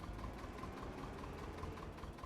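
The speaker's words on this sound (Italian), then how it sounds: "C'ha il motore spompato, non senti anche quando la avvii com'è?" A worn-out car engine idles just after starting, giving a low, steady, slightly uneven rumble with faint rhythmic ticking, heard close and at quiet level.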